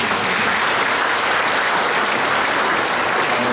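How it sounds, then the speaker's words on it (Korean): Audience applause at a church forum held in a Korean church, honoring campus ministry workers; steady, dense clapping from a large crowd, sustained evenly throughout without talk. "같이 한 박수로 한번 우리 격려의 박수 한번 드리겠습니다"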